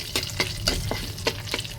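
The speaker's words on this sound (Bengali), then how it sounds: "এই তেলটার ভিতরে আগে শুকনো মরিচটা হালকা ভেজে নেব" Dried red chillies fry lightly in hot oil for a bharta, giving a low sizzle punctuated by a series of quick stirring scrapes at an uneven rhythm.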